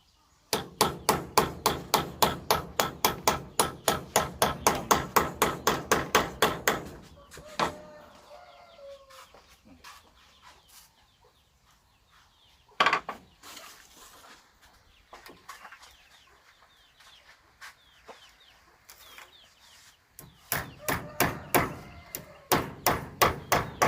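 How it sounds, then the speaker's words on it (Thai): A hammer drives one-inch nails into a flat zinc sheet with rapid, evenly spaced sharp blows close by. A first long run stops, a quieter gap follows with a rooster and clucking chickens in the background and a single loud knock, then the hammering resumes. "ใช้ตะปูหนึ่งนิ้วในการตอก"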